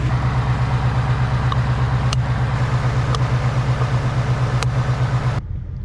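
A 2020 Ford Mustang GT Premium's V8 idles steadily under the open hood with the exhaust set to quiet mode, a close, even low throb with a few faint ticks before the sound drops away at the end.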